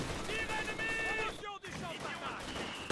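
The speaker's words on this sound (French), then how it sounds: "Ah non, il tape par là le mortier." Mortar fire and gunfire crackle through a Company of Heroes 2 battle, dense bursts and a sharp gap, with a voice talking over the action.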